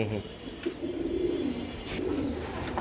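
Racing pigeons coo at a pigeon farm in low, rolling calls close by, with voices talking faintly underneath.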